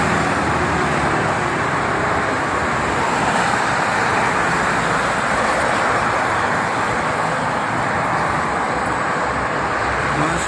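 Dense morning traffic on the Jakarta–Cikampek toll road, a constant broadband roar of many passing cars, buses and trucks, loud and unbroken with no distinct pauses.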